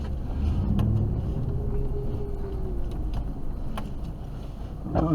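A truck drives past on a snowy road, heard from inside a running snowplow vehicle; the steady, loud low engine rumble swells slightly as the passing truck goes by, with no talk.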